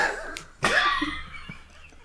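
A woman gives a sharp, close cough, one main burst followed by a short rasping tail and a faint second hack.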